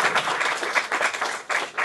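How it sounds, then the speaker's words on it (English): Crowd applause, a steady wash of many hands clapping together at moderate volume, with no one speaking over it. "Give yourselves a big round of applause."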